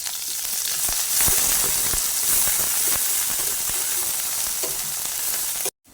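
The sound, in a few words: garlic and chopped onions frying in oil in a wok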